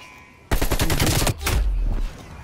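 Gunfire in a video game match on the Garrison map, a sudden loud burst of rapid automatic shots after a quiet start, followed by a second heavy burst and rumble.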